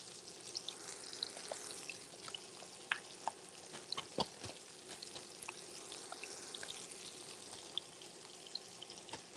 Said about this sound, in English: can you guys hear the sizzling?